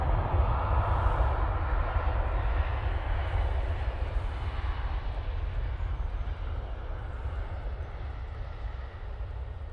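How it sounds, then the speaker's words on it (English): A TUI Boeing 787-9 Dreamliner lands at Manchester with a steady low rumbling roar that fades slowly as it passes, heard alone. "Dreamliner coming in there from Bridgetown"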